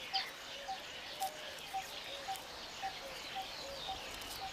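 A young nest-building weaver bird gives faint, regularly spaced short calls over a hissing outdoor background, about ten soft notes in a few seconds.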